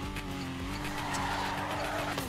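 Tires skid and squeal continuously as a car drifts in the PC racing game Torque Drift, a loud sustained screech over a running engine with no voices.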